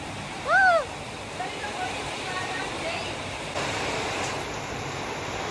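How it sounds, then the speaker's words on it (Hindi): Heavy rain driven by strong wind makes a steady, dense hiss that runs throughout, with a voice speaking over it and a short tonal chirp near the start. "कत्ती तेज आंधी कत्ती तेज बारिश"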